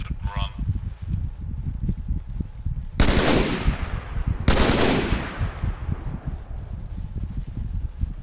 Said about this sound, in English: You guys appear to be taking fire.